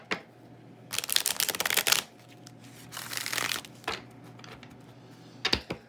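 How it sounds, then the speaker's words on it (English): Tarot cards being shuffled during a Libra reading: three separate bursts of crisp riffling and flicking, close and fairly loud, separated by quiet pauses, with no voices. "but we're going to shuffle again."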